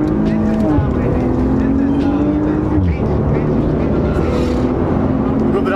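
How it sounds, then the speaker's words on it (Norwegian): A Maserati Ghibli SQ4 with a DSG gearbox pulls away and accelerates, its engine drone loud and steady while pitch climbs, dips at a gearshift near the middle and rises again, with a voice talking over it. "Men faktisk, den bilen her sånn DSG-fjert. Det sånn, den lager lyd når du girer."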